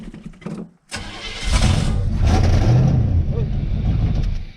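A 1983 Chevrolet C-20 truck engine turns over briefly, drops out, then catches and runs with a loud, rough roar that settles into a steady, close idle.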